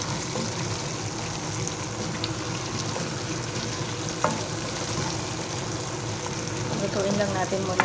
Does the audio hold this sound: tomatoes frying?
yes